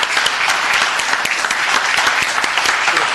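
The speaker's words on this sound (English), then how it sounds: "You can get a round of applause for these individuals." A city council meeting audience gives a round of applause, dense and steady clapping filling the room at a strong level for the whole stretch.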